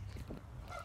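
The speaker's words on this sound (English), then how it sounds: "Goose." A goose honks once or twice outdoors in a sculpture park, a short, fairly faint call over low background rumble.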